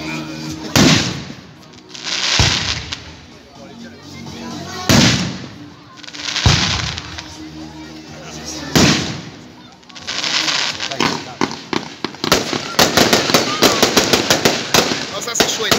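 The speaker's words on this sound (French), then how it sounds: "Non, c'est un feu d'artifice." Fireworks at a large Ruggieri display for the 13 July celebration in Moulins-Engilbert, Nièvre, explode in repeated loud bursts. The blasts come every couple of seconds at first, then build into a dense crackling barrage. A crowd talks between the bangs.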